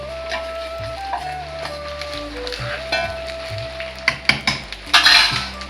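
Fried potatoes tipped into a pan of brinjal, pea and potato kurma, then stirred, giving a soft sizzle with scraping spoon strokes and several clattering knocks near the end.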